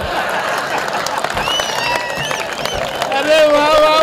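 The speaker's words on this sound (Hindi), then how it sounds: "जोरदार तालियां दोस्तों" An audience at a Hindi comic poetry gathering claps and cheers, with scattered applause and crowd noise rising near the end, under loud overlapping talk.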